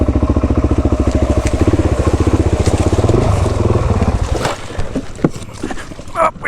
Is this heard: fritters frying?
no